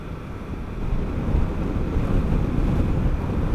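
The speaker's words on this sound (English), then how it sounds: "It is reasonably blustery today." Strong, blustery wind roars steadily and loudly across the microphone while a Triumph Tiger 1200 Alpine motorcycle is ridden over a bridge, a continuous low buffeting rush with no talk.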